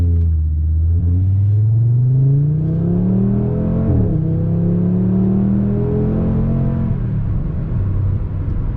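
A 2019 Audi RS3 engine revs and climbs in pitch as it accelerates, with a throaty exhaust rumble. It shifts once midway and keeps pulling, loud and continuous.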